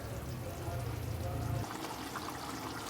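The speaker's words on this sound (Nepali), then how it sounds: "अझै म पानी हाल्छु" More water is poured into a pan of chicken curry, a short close gurgling pour lasting about a second and a half before the softer simmering hiss carries on.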